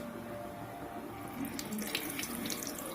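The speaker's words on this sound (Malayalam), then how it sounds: "പിഴിഞ്ഞു വെച്ച വാളൻപുളി ഒഴിക്കാം." Squeezed tamarind water poured into a clay cooking pot for a bitter gourd theeyal, a steady close splashing trickle that grows a little louder and more broken midway, with no talk.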